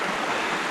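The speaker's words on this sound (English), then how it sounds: "It's right across from a nice little waterfall, brook thing." Small waterfall on a brook at a nature preserve trail, a steady broadband rush of falling water heard alone and fairly close, without change over the brief moment.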